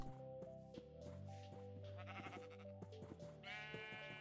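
A sheep bleats in the Minecraft video game, a wavering, nasal cry repeated over a steady background of game music, moderately loud and with no talking.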